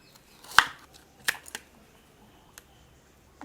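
A few sharp, isolated cuts or chops of food with a kitchen gadget, quiet and spaced irregularly against a near-silent background.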